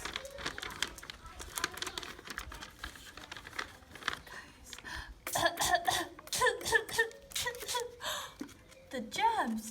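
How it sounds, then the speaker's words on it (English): A cartoon character coughs several times in sharp, bursty fits, mixed with crinkly rustles and patter, while people talk alongside. "when Chase coughs,"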